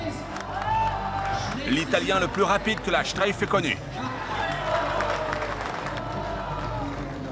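Crowd applause and cheering at the Streif downhill ski race in Kitzbühel rise in a loud, dense swell under an announcer's amplified voice, then settle into a steady roar of spectators.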